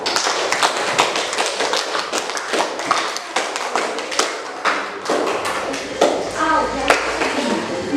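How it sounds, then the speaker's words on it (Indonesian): Students in a classroom applaud in a dense, sustained patter of hand claps that stays steady throughout, with faint voices mixed in. "Aplaus untuk semua."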